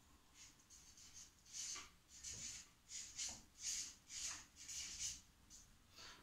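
A pen or pencil writing by hand, scratching in a series of short, rhythmic strokes that rise and fall like separate letters being formed, close and fairly quiet, with no talking.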